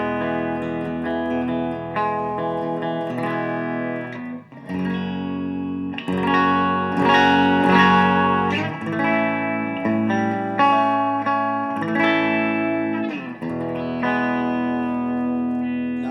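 Clean electric guitar played through a Blackstar HT 40 combo amp with reverb set halfway, ringing chords and single notes washed in noticeable reverb, steady and fairly loud with no voices.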